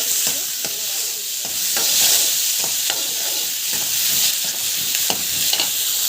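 Garlic, onion and chili sautéing in hot oil, a continuous close sizzle broken by repeated spatula scrapes and stirring clatters at an uneven rhythm.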